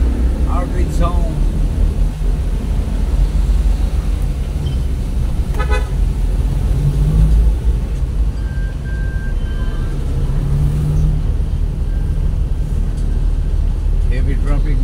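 Heavy traffic rumbles along Tibanga Highway in Iligan City, Philippines, with short car horn toots cutting through a loud, constant engine roar. People talk nearby throughout.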